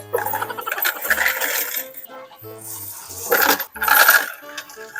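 Coins clatter and jingle as they drop into a GCash coin deposit machine, with repeated metallic rattling bursts in a busy, noisy setting over about five seconds.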